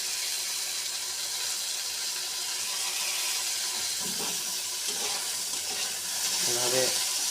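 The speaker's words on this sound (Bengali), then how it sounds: "10 থেকে 15 মিনিট ফ্রাই করার পর ফিরে আসছি।" Salted borboti long beans fry in a pan, giving a steady, even sizzle throughout, with a few faint stirring or clinking sounds near the end.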